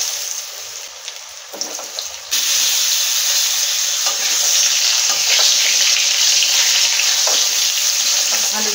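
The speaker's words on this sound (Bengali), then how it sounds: "এই তেলেতেই লম্বা করে কেটে নিয়েছি আলুগুলো ভেজে নেব।" Long-cut potato strips are dropped into hot oil already used for frying fish, with soft stirring at first, then a loud, steady, close sizzle that carries on unbroken.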